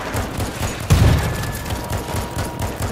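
Gunfire in the World War Z zombie shooter, a heavy burst of shots with a booming thump near the start followed by a continuing rattle of fire under the chaotic game mix.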